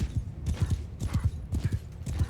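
Horse hooves clip-clop at a steady walking rhythm in Mount & Blade II Bannerlord, close and fairly loud, repeating evenly with no speech.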